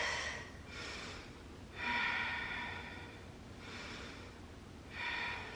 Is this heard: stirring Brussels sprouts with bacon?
no